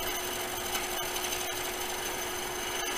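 Woodturning gouge cutting wood on a lathe, a steady broadband hiss of shaving with faint rhythmic ticks, continuous and fairly close, no talking.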